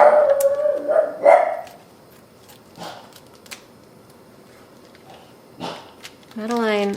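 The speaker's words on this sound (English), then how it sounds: "A lot of barking at nothing" Madeline the dog barks and howls in a home kitchen, a long drawn howl at the start, then sparse short barks, with a person talking at times and a rising whine near the end.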